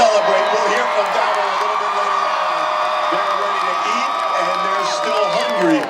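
A stadium crowd at a Clemson celebration roars and cheers in a dense, sustained wall of voices and whoops, loud and continuous, with whistles and shouts rising through it.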